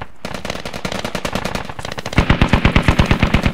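Automatic weapon fire in the Squad military shooter game, version 8.7, on the Sumari map: rapid repeated bursts that grow louder and heavier near the end, close and dominant.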